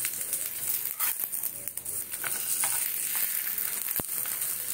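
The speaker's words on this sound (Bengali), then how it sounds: "ওপরে একটু তেল দিয়ে সুন্দর করে এইভাবে ভেজে নিতে হবে।" Mint paratha fries in oil on a pan over low flame, giving a soft, steady sizzle with occasional crackles and faint handling noises.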